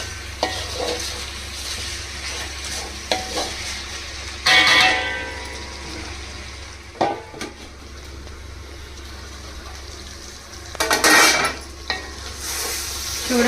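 Spiced chicken pieces are stirred in a kadai for biryani, a low steady sizzle broken by several loud scraping bursts of the spoon against the pan.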